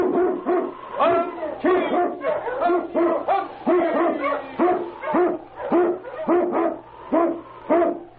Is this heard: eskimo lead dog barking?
yes